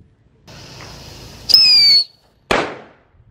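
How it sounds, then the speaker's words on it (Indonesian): A waterfall firework burns while buried in the ground, giving a steady fizzing hiss, then a sharp whistling rush, and finally a loud crackling burst that fades out. "Sudah menyala. Wow, waterfall."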